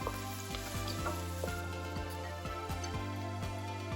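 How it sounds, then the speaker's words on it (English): Prawn shells stir-fry in butter with aromatics in a hot pan, making a loud and steady sizzle with crackling pops. Rhythmic scrapes of a utensil come roughly every half second as the shells are stirred, and there is no talking. "You would want to stir in the prawn shells here to enhance the flavor of the base"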